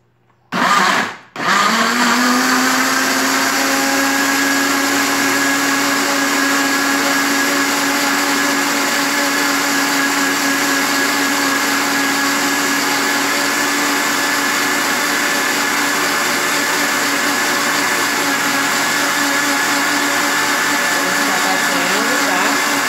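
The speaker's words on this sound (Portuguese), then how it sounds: "já encontrei a tapa do liquidificador. Agora a gente já pode começar a bater" An electric kitchen blender whirs continuously at steady high speed for over twenty seconds, loud and close, mixing a potato soap mixture after a brief start-up click.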